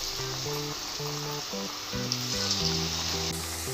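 Rice murukku sizzling in hot oil, a steady crackling fry heard under gentle background music with sustained melodic notes.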